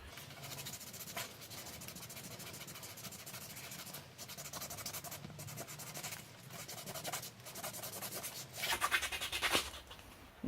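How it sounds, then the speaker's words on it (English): Steady scratching and rubbing across a shiny surface during a scratch-built flashlight project, continuous and close, swelling louder and harsher near the end. "Sounds like there's something there scratching"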